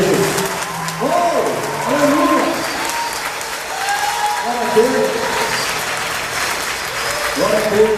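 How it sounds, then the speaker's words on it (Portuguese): A church congregation applauds during a worship service, sustained clapping from a crowd filling the room, with voices and cheering mixed in throughout. "Você pode aplaudir ao Rei dos Reis por isso?"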